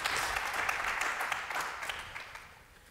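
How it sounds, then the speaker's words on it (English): An audience claps for a panel at the close of a conference session, a brief steady round of applause that tapers off toward the end. "Please, a round of applause for them."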